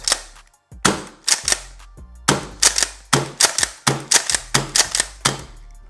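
An HPA airsoft shotgun fires a run of sharp, loud pneumatic cracks, each with a quick hissing tail, in uneven bursts of roughly a dozen shots close to the listener with no talking.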